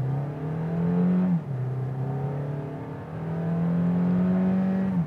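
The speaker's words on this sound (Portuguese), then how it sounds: "fazer uma largadinha aqui para sentir um pouco" Kia Niro hybrid (141 hp) pulling away from a standstill: a smooth engine drone rises in pitch, drops at a gear change, then climbs steadily again, heard from inside the car without talking.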